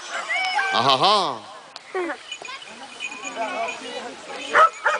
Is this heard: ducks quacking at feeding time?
no